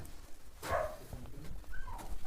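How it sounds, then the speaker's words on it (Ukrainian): A dog gives a few short yelping barks and whines, moderately close, in scattered bursts. "Щось гавкає."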